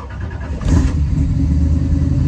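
A 1957 Corvette engine cranks briefly then catches and settles into a loud, steady, close low rumble at idle.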